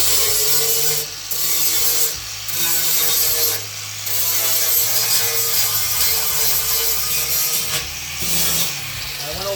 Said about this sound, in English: I still gotta grind over there.